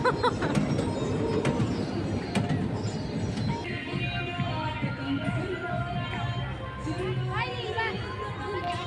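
A train rumbles steadily through a busy crowd at the Maraputti fair in Channapatna, with chatter and babble throughout and occasional higher squeals riding over the continuous noise.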